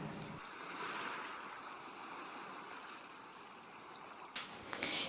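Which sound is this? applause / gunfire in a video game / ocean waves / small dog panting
ocean waves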